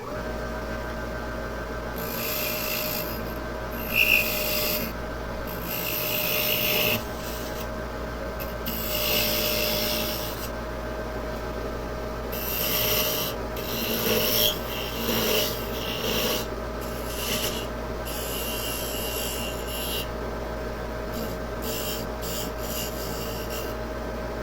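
Wood chisel held in the left hand pares and shaves a small wooden toy car, giving steady close rasping and scraping strokes in uneven bursts with brief pauses.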